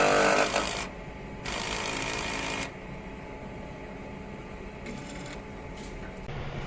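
An eco solvent printer runs a head cleaning cycle, with bursts of mechanical buzzing and whirring from the moving carriage alternating with quieter pauses and small clicks, close and moderately loud.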